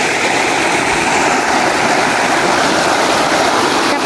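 A mountain forest waterfall roars in a loud, steady, unbroken rush of falling water, close and continuous with no other sounds over it.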